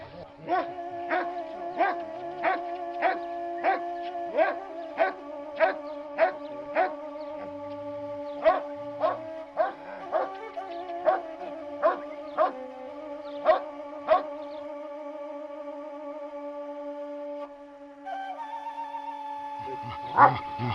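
A dog on a hillside near Veles barks repeatedly in a steady rhythm of short, evenly spaced barks, fairly close, with a few more scattered barks near the end.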